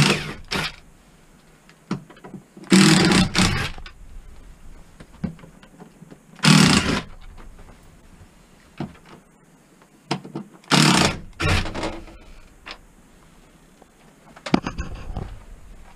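A power driver backs out the four square-drive screws of a cover plate during an air conditioner wiring job, giving several short whirring bursts separated by quiet pauses and faint handling taps.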